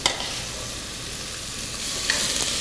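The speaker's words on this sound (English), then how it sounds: "I'm going to continue this on a high heat because I want to brown it." Coarse-ground Italian sausage for bolognese browns on high heat in a pan, giving a loud, steady sizzle and crackle with a few sharper pops and occasional stirring scrapes, with no voices.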